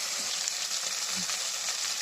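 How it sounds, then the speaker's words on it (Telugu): Tomato and mint being stirred in a pot for biryani, a steady quiet sizzle with faint scraping of the spoon throughout, no talking. "టమాటా పుదీనా వేసిన తర్వాత ఇలా మిక్స్ చేసుకోవాలి."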